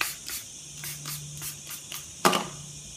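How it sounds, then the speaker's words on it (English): Water is spritzed onto watercolour paper from a spray bottle in a series of quick hissing bursts, with a sharper, louder spray near the end and faint background hum between. "Spray some water here."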